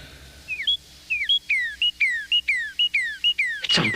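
Bird chirping in a rapid series of about ten bright, sweeping tweets, clear and close over a quiet background, ending with a sharp burst of noise.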